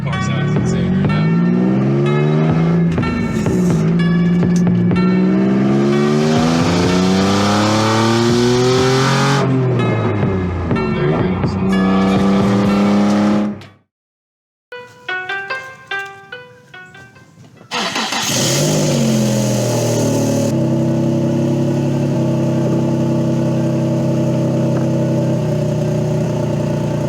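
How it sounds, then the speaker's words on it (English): A Nissan 350Z / Infiniti G35 engine revs loud and close, with rising and falling pitch sweeps as it accelerates through gears. A brief quiet gap falls midway, then a steady engine drone returns. "This car sounds insane right now."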